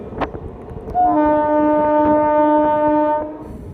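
A local train on the Ranchi to Purulia line rumbles and clatters, then a loud, sustained horn blast sounds close by for about two seconds before fading back into the rolling noise.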